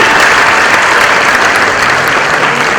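A large audience bursts into sustained, dense applause, steady and loud throughout as Sharad Pawar, former agriculture minister, arrives on stage at a ceremony.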